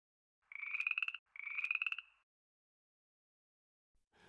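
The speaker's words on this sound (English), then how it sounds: "Oh, frog!" A frog croaks twice in quick succession, each call a rapid rattling trill lasting under a second, clear and close against complete silence.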